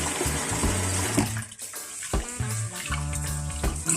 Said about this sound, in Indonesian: ini berasnya kita akan cuci ya